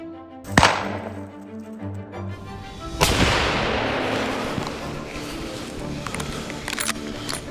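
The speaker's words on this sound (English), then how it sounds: "The gun went off and the 200-pound boar went down in a cloud of dust." A sharp gunshot fired at a charging 200-pound wild boar on a farm, followed by a second loud crack and rushing noise over a constant background soundtrack.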